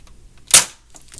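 A Nerf Disruptor toy blaster fires a single dart in one sharp, loud pop that decays quickly, with quiet surroundings before and after.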